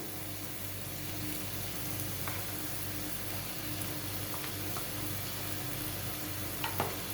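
Malvani masala paste frying in oil while being stirred, a steady close sizzle with soft scraping stir sounds throughout and a couple of brief clinks near the end.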